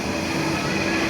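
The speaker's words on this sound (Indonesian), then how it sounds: "KRL ini sudah siap jalan lagi" A KRL commuter train idles at a station just before departing, giving off a loud, steady rumble and hum with no distinct change.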